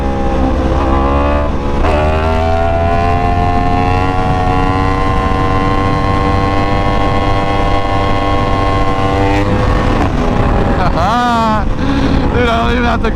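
A new Yamaha R1 motorcycle is ridden hard with power wheelies. The engine holds a loud, high, steady whine under strong wind buffeting, then its revs climb and shift rapidly near the end.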